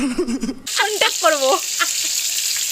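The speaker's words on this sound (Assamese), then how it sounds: "এয়া চাওক মাছ ভাজি আছে" Fish fries in a pan with a steady, bright sizzling hiss that starts abruptly and continues throughout, close and fairly loud, while a person talks over it.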